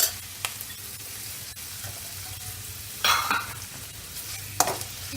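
Onion and capsicum frying in a pan, with a steady low sizzle throughout and two brief louder bursts of stirring or scraping partway through and near the end.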